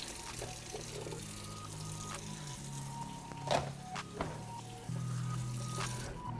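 Tap water pours and trickles into a sink while hands are washed in a home kitchen, a steady moderate stream that swells louder near the end, with a few brief knocks and clatters.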